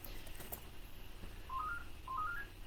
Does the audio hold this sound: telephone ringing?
yes